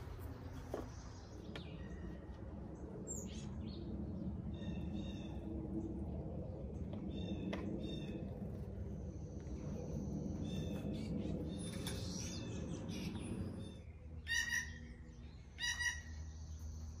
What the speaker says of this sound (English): That's blue jay calling me.